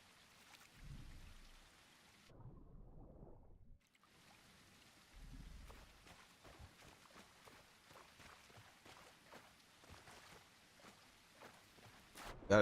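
Steady rain patters through the game world of The Isle, with scattered drops and soft splashing over a low ambient bed and brief quiet gaps; no clear thunder stands out.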